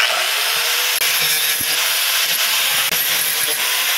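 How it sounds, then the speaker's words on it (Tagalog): An angle grinder smooths the sharp edges of a metal fender on a Suzuki X4 two-stroke motorcycle, a loud continuous abrasive whine with brief dips where the disc lifts off, no voices. "Gagamitan natin ng grinder syempre"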